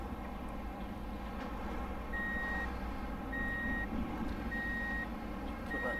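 Truck reversing beeps in Truck & Logistics Sim while backing up to attach a trailer: a steady series of evenly spaced high electronic tones over a constant low engine drone, no talking.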